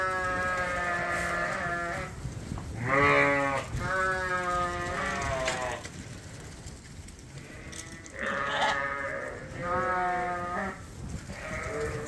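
Sheep and lambs bleat in a barn before the lambs are released, with several loud, wavering calls overlapping in clusters, some near and some farther off, over a low background of rustling and barn noise.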